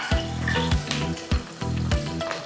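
Ghanaian palava sauce ingredients fry in hot palm oil, with a loud crackling sizzle under repeated scraping strokes as the pot is stirred.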